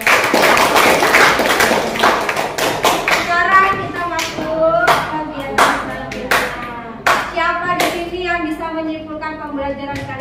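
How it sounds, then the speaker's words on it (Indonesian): Classroom students clap in a quick scattered burst to honour the top quiz scorer, the clapping close and loud while a teacher's voice talks over it. "berikan tepuk tangan buat Tasya Bila."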